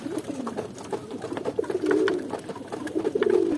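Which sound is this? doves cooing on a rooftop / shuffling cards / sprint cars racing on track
doves cooing on a rooftop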